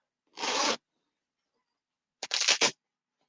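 A zip on a John Lewis girl's coat rasps twice, close and crisp: one quick pull, a pause of over a second, then a second stroke with a few separate ticks.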